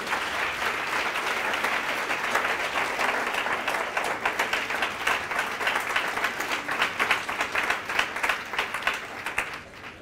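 A church congregation applauds together in a sustained wave of dense clapping that swells and grows louder toward the end, with scattered cheers mixed in.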